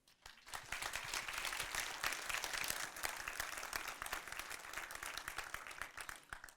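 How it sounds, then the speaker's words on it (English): Audience applause at the code::dive 2019 programming conference: a dense, sustained crowd clapping that rises quickly and continues evenly for several seconds, sounding somewhat distant and without talk. "Thank you very much for the applause"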